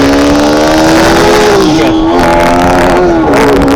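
A Bajaj Pulsar RS200 motorcycle on a test ride, its engine droning loud and close with a rising, wavering rev through heavy traffic.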